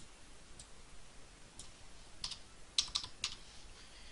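A date being typed on a computer keyboard: scattered soft key taps that build into a quick cluster of sharper clicks, close and fairly quiet.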